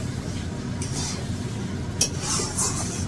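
A spoon scraping and stirring tangra fish curry in a wok, with soft clinks and a few brighter scrapes over a low background hiss, fairly quiet and close.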